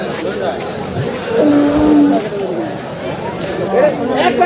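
Cattle low and moo at a busy Qurbani livestock market in Nagarpur, Tangail, with a long tonal call near the middle amid crowd chatter and people talking close by.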